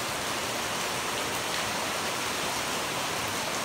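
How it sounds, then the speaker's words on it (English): Heavy rain pours down in Cardiff in mid-May, a dense, steady hiss of falling water that holds unbroken throughout, loud and enveloping, with no voices. "I'm appalled at the constant, belligerent rain."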